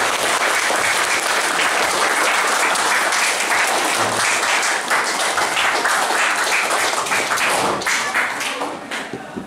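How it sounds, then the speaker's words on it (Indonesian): A school audience at a farewell address in a vocational high school breaks into loud, sustained applause, dense clapping from many hands filling the room before it begins to thin out at the end. "kita berikan aplaus yang luar biasa"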